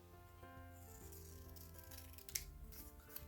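Scissors snip through a paper seed packet, cutting away a green lower strip, with a few soft cuts and one sharp snip over steady tonal background music.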